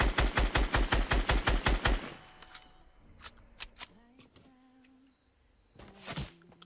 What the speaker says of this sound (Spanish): alguien me está disparando